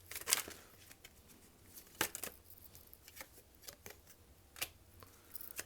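Tarot cards are shuffled and drawn in short bursts of crisp card rustles and flicks, close but faint, with irregular pauses between them.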